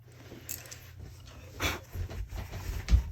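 A puppy whimpers and pants softly indoors in short, uneven bursts, with a slightly louder whine near the end over a low steady background hum.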